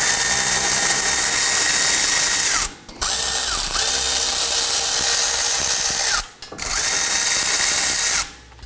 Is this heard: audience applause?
no